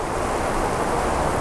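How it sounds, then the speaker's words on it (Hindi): Heavy rain pours down in a dense, steady roar of broadband hiss that stays constant and close throughout, with no voices. "भयंकर बारिश।"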